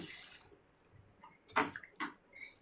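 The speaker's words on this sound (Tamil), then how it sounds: "இப்போ இதில் தேவையான அளவுக்கு தண்ணி சேர்த்துக்கலாம்." Water is poured into idli masala as it cooks in a Tamil kitchen, making soft splashing and gurgling with two louder bursts near the end. The sound is fairly quiet and close, with no talk.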